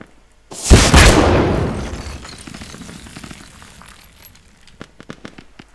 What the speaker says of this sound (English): So Extreme exchanging a little bit of gunfire with Kenny, having to back out.